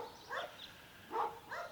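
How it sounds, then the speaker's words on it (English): Dogs bark faintly in the distance near a campervan site, a few soft, short woofs in two small clusters over a quiet outdoor background. "That's the dogs again."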